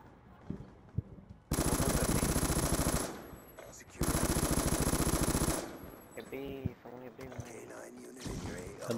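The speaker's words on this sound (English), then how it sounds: "I'm using an LMG right now, so I'm gonna be really slow" Bursts of LMG machine gun fire in the video game Black Ops II, two long sustained rattling volleys loud and close, followed by quieter scattered game sounds with a voice talking.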